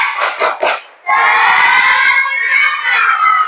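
A classroom of children claps three sharp times, then breaks into a loud, sustained group shout of a spirit chant.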